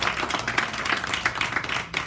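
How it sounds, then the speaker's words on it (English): Audience giving a round of applause at a holiday health event, close, lively clapping with distinct individual claps standing out in a busy, fluttering rhythm. "Everybody give them a big round of applause."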